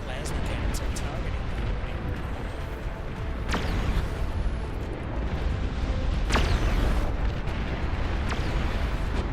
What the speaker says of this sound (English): Long-range plasma cannons are targeting